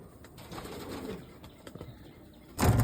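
Pigeons coo softly and low nearby, a few murmuring calls, then a sudden loud rustling burst, like wings flapping, ends the sequence.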